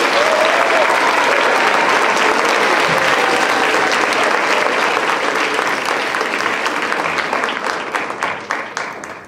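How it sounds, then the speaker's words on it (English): A school quiz show audience gives contestant Charlie a big round of applause, dense sustained clapping throughout that slowly thins and fades near the end. "we want to give the biggest round of applause today for Charlie"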